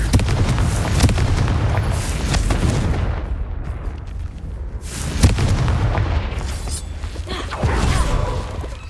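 A blasting-spell explosion in the video game Hogwarts Legacy, loud booming blasts with rumbling, crackling debris in a continuous roar, no talking.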